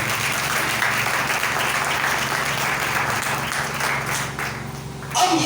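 A church congregation applauding, dense steady clapping from many hands that carries on throughout and ends with a brief louder burst.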